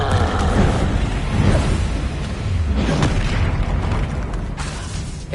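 An Incendio fire spell in Hogwarts Legacy bursts with a heavy booming blast and roaring flame, a dense continuous rumble with a few sharper surges, loud and close.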